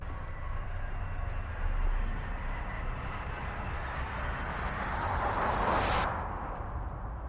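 Three layered cinematic risers, ambient, beefy and airy, merge into one steady swelling wash of noise that builds and brightens toward a hissing peak near the end, heard alone with faint ticks.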